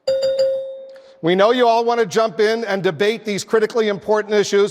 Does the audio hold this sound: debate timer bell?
yes